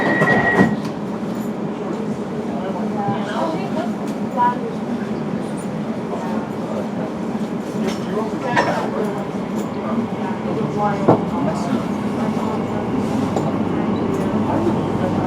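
An Elizabeth line underground train runs from Whitechapel toward Liverpool Street, a loud continuous rumble of wheels and motors with a few clicks and clunks, steady throughout under intermittent talk.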